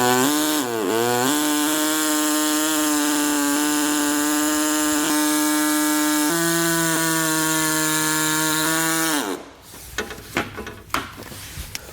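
A small reciprocating saw cuts steady and loud for about nine seconds during a Blue Ox base plate install on a 2012 GMC Terrain, its motor whine dropping and shifting pitch under load, then stopping and giving way to clunks and handling noise.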